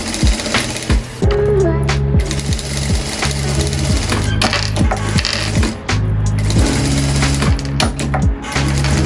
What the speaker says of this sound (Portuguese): pezinho de máquina, retrocessinho aqui no começo.